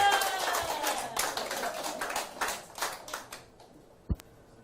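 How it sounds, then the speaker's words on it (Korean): An audience at a Korean humanities lecture claps. The applause is dense at first, then thins out and fades, with one louder thump near the end. "박수 한번 보냅시다"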